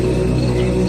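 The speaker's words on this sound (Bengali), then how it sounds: "চারিদিকে ঝিঁঝি ডাকছে," Crickets chirp in a dense, steady night chorus, used as a sound effect in a Bengali horror audio drama, a continuous close trill with no voices.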